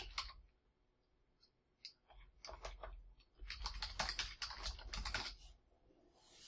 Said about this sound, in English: I'm going to go ahead and type in my email address.